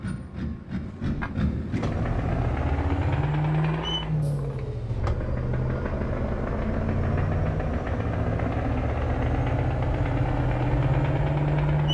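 A Scania engine swapped into a modded SCS Legacy W900 truck in American Truck Simulator drones steadily and close, a low continuous rumble that shifts pitch once partway through, with no talking over it.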